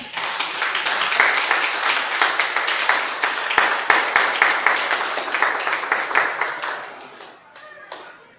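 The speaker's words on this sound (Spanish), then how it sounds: "Un aplauso fuerte al Señor." A church congregation claps and applauds loudly and steadily, many hands at once, with a few sharp individual claps standing out before the applause thins and fades near the end.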